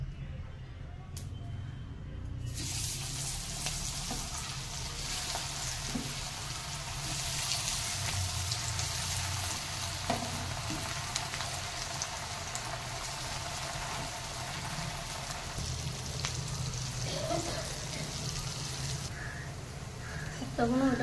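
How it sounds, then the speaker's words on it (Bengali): Raw banana koftas deep frying in hot oil, a faint, steady bubbling hiss that swells slightly and carries on evenly without pause. "এবার এইগুলো এক এক করে আমি ভাজবো"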